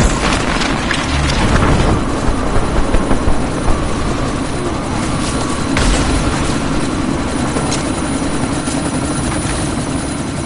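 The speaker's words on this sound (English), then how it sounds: "you need to disable that chopper" A helicopter in the video game Deus Ex: Mankind Divided churns continuously with a loud rotor thrum and engine roar, steady throughout amid a gusty sandstorm.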